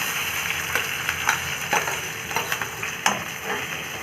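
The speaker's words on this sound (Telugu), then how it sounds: "గోల్డెన్ బ్రౌన్ వచ్చేంత వరకు వేయించుకోవాలి." Sliced onions frying in tempered oil with mustard seasoning for a lentil-wafer curry, a steady sizzle broken by a few stirring scrapes and taps, close and moderately loud with no talking.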